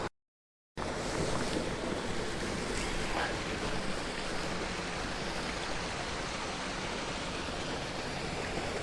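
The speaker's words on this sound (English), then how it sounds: "The babbling brook, a babbling Donald." Babbling brook on a countryside walk near East Linton toward Hailes Castle, a steady broadband rush of flowing water close to the microphone, continuous and even after a brief silent start, with some wind buffeting.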